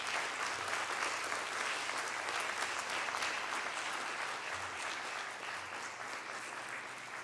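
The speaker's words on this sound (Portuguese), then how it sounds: "Uma salva de palmas, Dr. Cláudio Peron Ferraz." Sustained applause fills a formal session honoring labor lawyers, a dense, even clapping from an audience heard at a moderate distance that gradually tapers slightly over several seconds.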